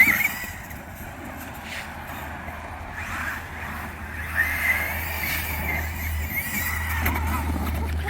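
A Traxxas Summit RC truck drives and jumps down a hill beside a drainage ditch, its electric motor whining in steady bursts with bumps and rattles of landing, while people talk over it outdoors.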